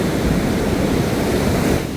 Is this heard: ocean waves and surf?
yes